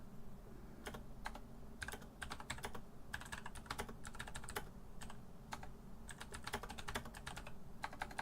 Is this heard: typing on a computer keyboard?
yes